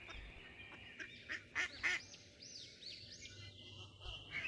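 Cartoon ducks honking and quacking in a series of short, bright calls, several close together in the middle, over faint background sound.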